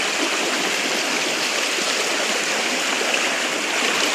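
A shallow stream on a farm, crossed at its low part, flows in a steady, loud, close rush of babbling water with no pauses and no voices.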